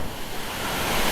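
Water spilling over a reservoir's overflow at Sirnapalli in Nizamabad, a steady broadband rush heard close and continuous, like surf or a small waterfall, with no voices.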